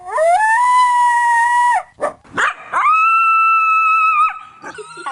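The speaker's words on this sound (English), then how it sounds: "Here are some coyote howls." Several recorded coyote howls, long sustained wailing tones that slide and fall off in pitch at the end, with a few short yips between; loud, close and without talk.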